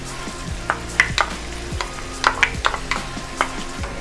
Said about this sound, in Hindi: तो ये हम जल्दी से इसमें दही भी डाल देंगे।